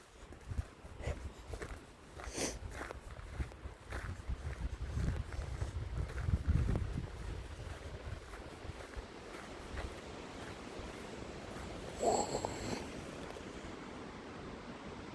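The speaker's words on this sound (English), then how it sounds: "The wind is really trying to get going." Wind gusting through a forest during a drive, a rough broadband rush and buffeting that swells and eases over several seconds, with a brief sharper gust burst near the end.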